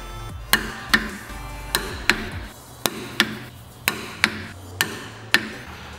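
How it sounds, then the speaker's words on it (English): Sharp, evenly spaced metallic clicks ring out about a dozen times, a torque wrench tightening the wheel bolts on a BMW E36, close and alone with no talk. "I'm going to tighten the bolts to 140 Nm in crisp patterns way."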